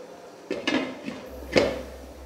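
A metal lid is set onto a cooking pot of aloo gosht, giving a few close clanks and a final rattling clatter as it settles, followed by a low steady hum of the stove on medium flame.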